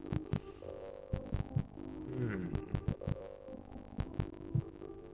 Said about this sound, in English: Why's my heart beating?